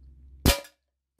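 A single sharp crack from an ASG Schofield 6-inch black aged-finish 4.5 mm pellet revolver fired at close range, a loud burst that decays quickly into silence after a low background hum.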